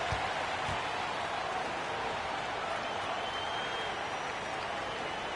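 Crowd applause inside an NBA 2K basketball video game during a timeout, a continuous wash of clapping and arena noise at a steady level with no pauses.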